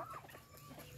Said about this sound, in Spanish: Y por aquí mis gallinitas.